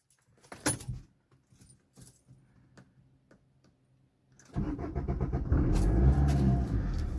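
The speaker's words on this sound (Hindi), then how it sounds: "यहाँ पे सेल्फ मार दिया हमने, एकदम स्मूथ स्टार्ट हो गई है।" A 2013 Maruti Suzuki Swift VDI diesel is started: keys jangle and click in the ignition for several seconds, then the starter cranks and the diesel engine catches and settles into a loud, steady idle close by.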